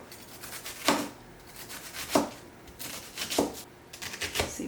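A knife cuts down through a tomato on a cutting board in four sharp, evenly spaced strokes, each a brief crisp crunch against quiet kitchen background.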